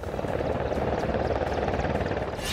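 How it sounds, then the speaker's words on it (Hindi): A helicopter's rotor and engine roar loudly and steadily, with soldiers descending from it onto a snowy, frozen landscape. "एक हेलीकॉप्टर से उतरते सैनिक"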